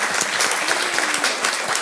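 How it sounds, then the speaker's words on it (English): A room full of people at a school district board meeting claps steadily, a dense patter of hands that stays even and lively throughout. "Yeah, you can clap for that."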